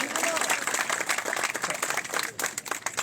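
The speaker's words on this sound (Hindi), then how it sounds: "तालियां बजाएं।" Audience at a Hindi comedy poetry gathering in Harda breaking into dense, sustained applause, loud and close, with a speaking voice mixed in over the clapping.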